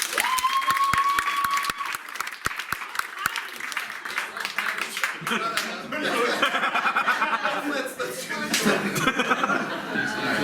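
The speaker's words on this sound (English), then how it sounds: "If you think we did drugs, clap now" Applause and laughter from a comedy show audience, starting with sharp close claps, then swelling into a loud burst of clapping mixed with chuckles and voices.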